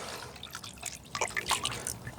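A solar-powered water fountain splashes and drips close by, with irregular patters and droplets scattered unevenly.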